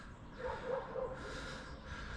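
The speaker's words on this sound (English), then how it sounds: "There's a little dog barking in the background." A small dog yips a few times in the background of a quiet rural setting in Northern Ireland, faint and distant under a steady outdoor hiss.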